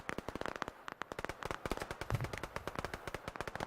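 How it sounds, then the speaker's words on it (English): Rapid bursts of video game gunfire, marksman rifle shots on a long-range map, crackle in a dense, steady stream of sharp pops at moderate loudness with no talking over them. "the whole idea of the gunshots"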